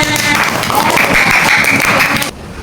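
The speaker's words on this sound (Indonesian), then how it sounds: "Tepuk tangan buat anak-anak semua." Applause for the children during a prayer lesson, a dense, loud wash of clapping that carries steadily for two seconds and then cuts off abruptly.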